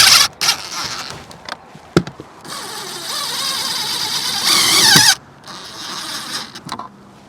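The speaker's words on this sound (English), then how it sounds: "I think I'm just going to screw it on right about here." Self-tapping screws being driven into the cover of an A/C soft start kit on a Coleman Mach RV air conditioner, a whirring power-driver burst of a few seconds between short clicks and handling knocks, close up.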